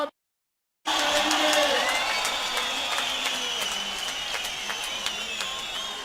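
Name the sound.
crowd applauding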